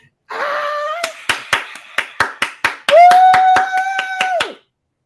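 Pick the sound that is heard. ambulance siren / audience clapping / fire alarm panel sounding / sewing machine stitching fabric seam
audience clapping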